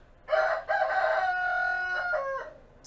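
A rooster of about two or three years crows at a Humane Society shelter, giving one loud, close, drawn-out cock-a-doodle-doo with a clear break after the first note and a falling tail at the end.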